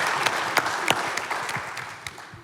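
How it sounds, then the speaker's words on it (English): A studio audience at a live morning show bursts into a round of applause, dense and steady clapping with sharper individual claps standing out, fairly close and filling the room on its own. "big round of applause for all of these folks."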